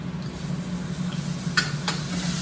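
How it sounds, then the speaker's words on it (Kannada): Capsicum and tomato frying in a pan with a steady, close sizzle, two brief stirring scrapes breaking through near the end. "ಕ್ಯಾಪ್ಸಿಕಮ್ ಎರಡು ಚೆನ್ನಾಗಿ ಫ್ರೈ ಆಗಲಿ"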